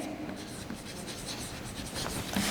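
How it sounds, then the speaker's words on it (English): Chalk or a marker writes a maths lecture on a board, scratching softly and continuously in short strokes, faint and close, with no talk over it. "let me write"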